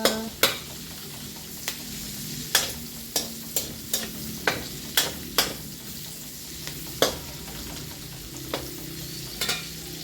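Vegetables for pinakbet browning in a hot pan, a steady oil sizzle running throughout with a dozen or so sharp clinks and scrapes of a spatula stirring at irregular intervals, close and alone without talk.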